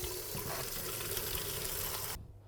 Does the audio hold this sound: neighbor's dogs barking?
no